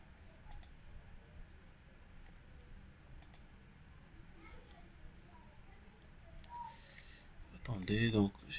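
Faint, sparse mouse clicks while working in structural analysis software on a truss bridge model, a few isolated ticks spread out over quiet room tone, with a louder handling burst near the end.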